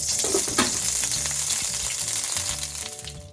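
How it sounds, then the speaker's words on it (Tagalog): Ginger sautéing in hot oil in a pan for a shell soup, a steady close sizzle and crackle with a few stirring scrapes, no voices. "Saute our ginger."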